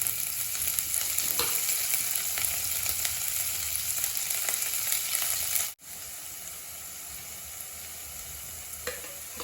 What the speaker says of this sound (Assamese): মিঠাতেল গৰম হৈছে আৰু জিৰা শেষ অলপ আছিল, সেইখিনি দি দিলোঁ। তাৰপিছত দিছোঁ পিঁয়াজ